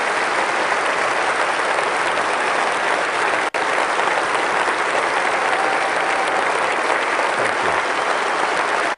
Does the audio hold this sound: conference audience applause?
yes